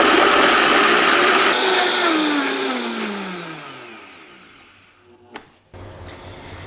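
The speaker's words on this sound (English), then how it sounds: "you're just gonna pulse these in your blender, or blend these in your blender until they become a fine powder" Extra thick oats being ground to powder in a blender, a loud whirring motor that winds down in pitch and fades, followed by a brief clunk and a quieter hum.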